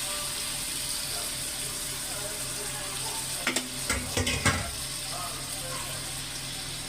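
Tomato and onion frying in a pan, a steady close sizzle throughout, with a brief burst of scraping and stirring clatter partway through and no speech.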